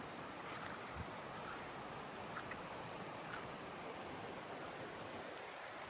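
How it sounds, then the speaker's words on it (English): A river runs right beside a wilderness campsite in the Bob Marshall area on a summer night, giving a steady, broad rushing wash that holds an even level throughout with no voices. "You can see the river flowing."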